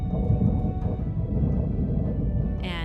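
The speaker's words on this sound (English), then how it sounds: "you hear that deep thunder again" Deep thunder rolls in the distance as a low, continuous rumble, steady and heavy throughout without a sharp crack.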